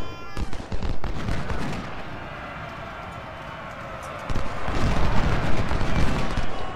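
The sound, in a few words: rifled gun and artillery fire in video game Ultimate General: Civil War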